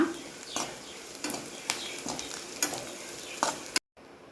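Grated coconut and curry leaves frying in a pan for Mangalore-style chicken sukka, a constant close sizzle broken by regular scraping stirs, then cut off abruptly.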